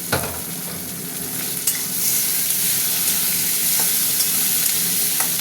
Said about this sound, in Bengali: চিংড়ি মাছও ভাজা ভাজা হবে পেঁয়াজের সাথে